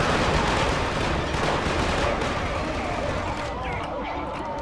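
Sustained machine gun fire in the Killzone 2 video game, a dense rattling burst over battle din with distant explosions, and voices shouting over the firing.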